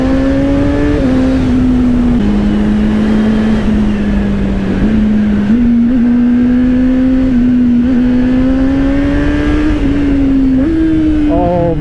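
A 2025 Honda CBR600RR inline-four sport bike revs loud and close in a steady high-pitched wail, with quick throttle blips stepping the pitch up and down during a ride, no talk over it.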